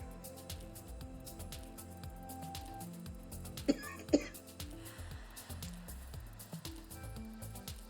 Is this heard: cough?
yes